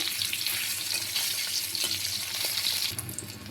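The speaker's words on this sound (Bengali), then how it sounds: "খুব কড়া করে ভাজবো না, হালকা একটু ভেজে নিব।" Fish frying lightly in hot oil gives a steady, close crackling sizzle that holds evenly throughout, with no voices.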